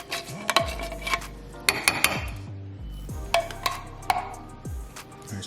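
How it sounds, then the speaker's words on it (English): Seasoned turkey wings are mixed by hand in a bowl, giving wet squelching rubs punctuated by sharp clinks and knocks against the bowl, close by and uneven in rhythm. "let me go ahead and mix this good"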